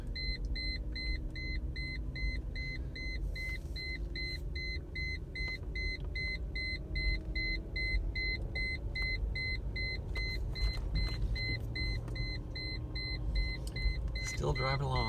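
A Mercedes ML500 driving along, with a steady low road and engine rumble under a repeating electronic beep pattern, and a person talking over it.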